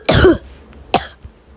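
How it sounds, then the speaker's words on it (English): Two sharp coughs, close and loud, the first longer and raspier, the second quick, followed by a faint throaty sound. "my coughs are so annoying."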